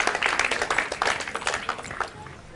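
Dense applause from the audience at a French spoken-word poetry show welcomes a performer to the stage, a busy wash of clapping that stays strong and then eases slightly toward the end.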